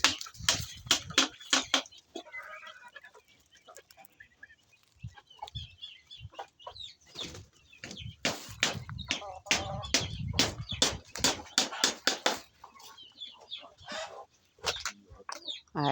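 Chickens clucking inside a coop on a small farm, a busy run of sharp close clucks and squawks in bursts with short quiet gaps, several birds calling over one another.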